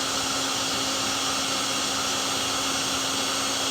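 A heat gun blows steadily on an A/C control module from a Bobcat skid steer, a continuous loud airy roar with a fixed hum that holds unchanged throughout, with no voices.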